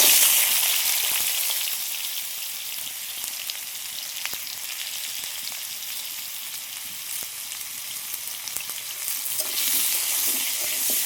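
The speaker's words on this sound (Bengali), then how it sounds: "একইভাবে আলুটাও ভেজে নেব" Potatoes fry in a pan with a steady, bright sizzle and hiss that stays fairly loud throughout, with faint stirring clicks and no voices.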